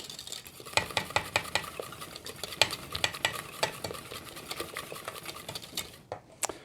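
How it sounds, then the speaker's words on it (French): A whisk clicks rapidly against a hot saucepan of béchamel sauce in quick, rhythmic strokes, close and crisp, stopping briefly near the end. "On continue à fouetter quelques secondes pour pas que la béchamel accroche."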